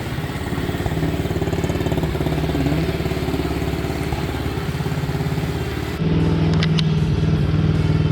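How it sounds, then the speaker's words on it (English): A pit bike engine idles steadily and close by, a rough, even mechanical putter with a small change in tone partway through. The bike runs well but still has a slight carburetor hiccup. No voices. "Bike seems to be running pretty good. It's idling, everything's good."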